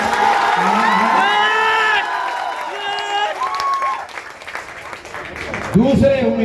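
A crowd at a Jan Suraaj Party political meeting clapping and cheering as a candidate's name is read out, loud applause with whoops and shouts over a speaker's amplified voice, fading then rising again near the end.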